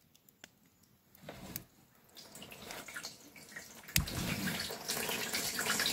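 Warm water starts flowing from a homemade wood-fired water heater built from an old gas heater, first a few drips and trickles, then a steady close splashing stream that grows louder.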